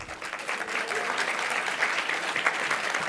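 An audience at a session in Brussels claps in a dense burst of applause, steady and fairly close, with a few voices mixed in.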